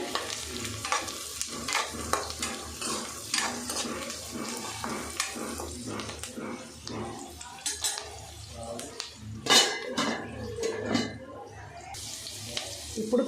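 Onions frying in oil with turmeric just added, a soft sizzle under repeated stirring, scraping and utensil clinks against the pan, with a person talking throughout.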